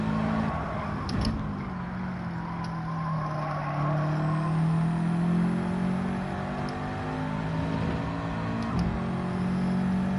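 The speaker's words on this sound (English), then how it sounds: "I've tried revving it out a wee bit more in third gear" A racing car engine in the Gran Turismo 7 video game revs steadily in third gear, a loud, continuous droning hum with slowly shifting pitch and no talk.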